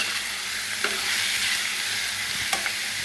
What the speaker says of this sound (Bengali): চালটা দিয়ে দিচ্ছি, নাড়াচাড়া দিয়ে দিচ্ছি।